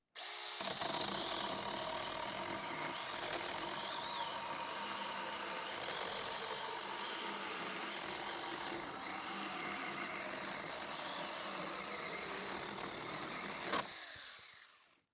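A Saker 6-inch mini chainsaw cuts through wood, a continuous buzzing motor whine held steady for about fourteen seconds at moderate distance before it winds down at the end, with no talking.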